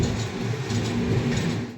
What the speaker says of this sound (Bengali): দেখো দেখো ট্রেনটা ট্র্যাক চেঞ্জ করছে